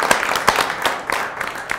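A short burst of applause from a small group, scattered claps rising and fading over a couple of seconds.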